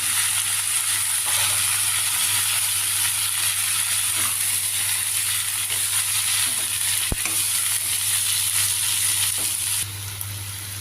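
Tomato pieces and onions sautéing in a pan for a gangavalli leafy-greens curry, a steady close broadband sizzle running unbroken for about ten seconds with one faint clink partway, no voices.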